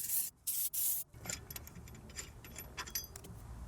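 Three short bursts of aerosol brake parts cleaner hissing onto a 2002 Lexus ES300 rear brake, followed by quiet scraping and handling noises.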